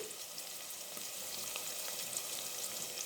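Onions, curry leaves and ginger garlic paste fry in oil for a ridge gourd and chana dal curry, giving a steady, soft, continuous sizzle with faint crackles and no talking.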